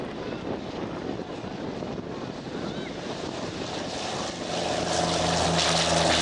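Propeller drone of an F4U Corsair fighter flying at the 2012 Rhode Island air show, a steady broad engine roar that swells louder near the end as the plane passes close.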